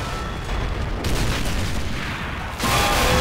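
Explosions and gunfire from the video game Men of War Assault Squad 2 in a Polish defense battle at Mlawa: a dense, continuous roar of booms and rumbling blasts, loud throughout, swelling sharply near the end.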